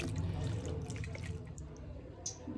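Warm tap water running over fish being rinsed in a kitchen sink, a soft continuous splashing stream, fairly quiet and close, with a brief brighter splash near the end.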